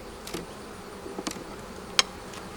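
Honeybees at an open hive in a bee yard, a few individual bees buzzing past close by in short separate passes against a quiet background, with no one talking.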